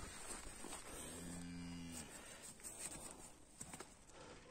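A single cow lets out one long, clear moo, close by on a pasture, while small rustling and hoof-like sounds carry on around it outdoors.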